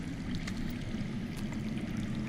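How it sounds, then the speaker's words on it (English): Underground water flows in the Telltale Game of Thrones game as a steady, soft rushing trickle, continuous and moderately distant, with a faint gurgle and no voices. "That's water. I hear water. From underground."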